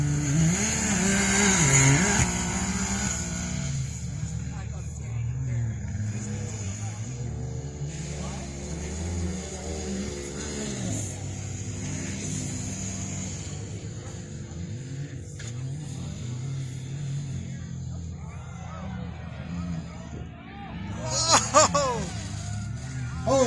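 A Can-Am off-road vehicle races round a track, its engine droning and surging with shifting pitch, mid-distance and steady, with a brief louder rev near the end, while someone talks over it.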